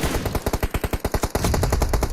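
Rapid automatic fire from an M416 rifle in PUBG Mobile, a burst of about seventeen evenly spaced sharp shots, loud and close, followed by a denser rumble of noise.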